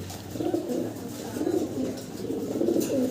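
Fancy pigeons coo in a close, repeated rhythm of low throaty calls, several overlapping coos rising and falling over a quiet background, with no talk.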